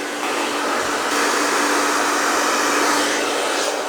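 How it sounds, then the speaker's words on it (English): A hair dryer blows steadily and loudly while hair is blow-dried over a round brush during a medium-length men's haircut, its airy whoosh constant and close with no voices. "blow dry everything over to one side like this. And wrap your brush around."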